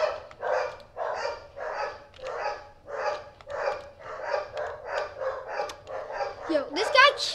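A run of about ten evenly spaced dog barks repeats steadily for several seconds, each one sharp and close, and a brief higher yelp comes near the end.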